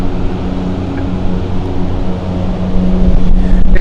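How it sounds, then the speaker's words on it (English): An Embraer 190 jet pushes back at Helsinki Airport, a steady, loud engine roar and low rumble close by, rising slightly toward the end with no talk over it. "pushing back at the moment is an Embraer 190, right in front of us actually."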